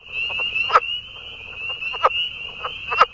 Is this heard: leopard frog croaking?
yes